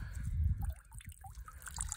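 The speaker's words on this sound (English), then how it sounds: "Yeah, the water coming out of it." Water trickles and dribbles from a rock lifted out of a Northern Red Sea tide pool, a soft close wet gurgle with small drips over a low rumble of surf or wind.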